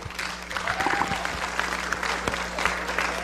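A crowd at a dance crew performance gives steady, dense applause for the crew Humble, with scattered cheers mixed in under a continuous low hum.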